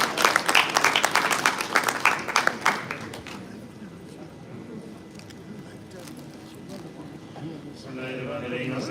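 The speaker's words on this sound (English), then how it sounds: "Please give a big round of applause to Shahbaz Zubairi." A gala dinner audience at a 2024 convention in Atlanta gives a loud, dense round of applause that fades after about three seconds, followed by an announcer speaking.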